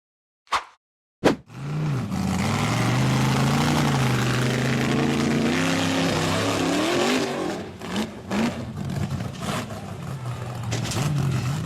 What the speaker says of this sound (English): The white off-road vehicle roared powerfully as it surged up the rugged dirt hillside.